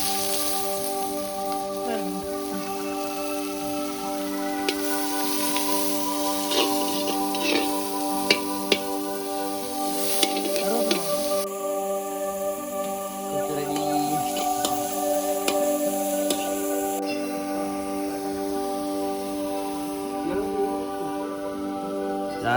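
Onions sizzle steadily in oil for Jaffna-style meat kottu roti, a continuous close crackling hiss with occasional clinks, accompanied by a faint background hum.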